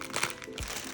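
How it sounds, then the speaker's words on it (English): A plastic package of big puffy marshmallows is torn open up close, with a short burst of crinkling followed by a soft crunch. "Okay, we're gonna open our big puffy marshmallows."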